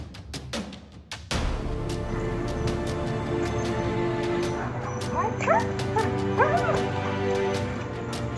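A red-nose pit bull lets out a run of short yips and whimpering barks at close range over a steady background hum, with a few sharp knocks near the start.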